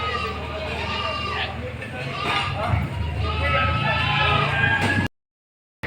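Goats bleat at the Padre Garcia livestock market in Batangas, wavering calls rising over a busy crowd murmur and talk before the sound cuts off abruptly.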